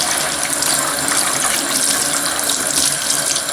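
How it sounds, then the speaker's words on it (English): Water running from a spray or drip hose onto a hair system during washing, a steady close splashing hiss that holds evenly throughout with no talking. "you're going to turn on your water."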